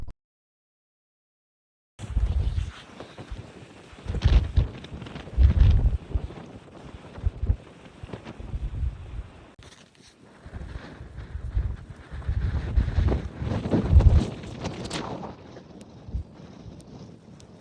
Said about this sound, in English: Such a massive wind! It's taking me.